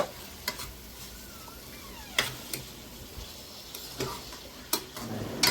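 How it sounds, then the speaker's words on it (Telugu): Tomato pieces being stirred into hot oil in a pan for a spicy egg curry: a low, steady sizzle with a handful of sharp spoon clicks and scrapes at irregular moments. "టమాటా ముక్కలు వేసి బాగా కలుపుకోవాలి"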